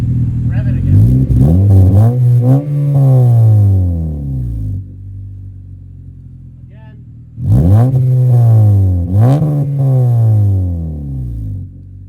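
Two clear revving bursts come from a 2013 Honda Civic Si coupe with an Invidia N1 catback exhaust. Each burst climbs and falls in pitch, and they are separated by a quieter idle. The sound is loud and close.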